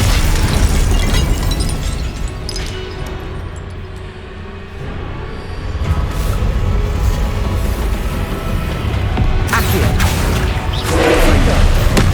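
Loud, continuous explosive blasts from the Confringo fire spell in the Hogwarts Legacy video game, layered with crackling bursts and rumbling booms during combat, with a brief lull before the detonations return.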